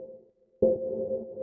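A sustained techno synth tone made in Ableton Live 10 cuts off briefly, then returns with a loud attack and a long reverb tail filling the space.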